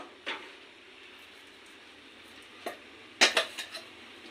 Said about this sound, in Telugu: పౌడర్ అంతా ఈ పాకంలో వేసేస్తున్నాను.